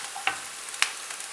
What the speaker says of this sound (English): so I'm going to fry the onions till it's nice and brown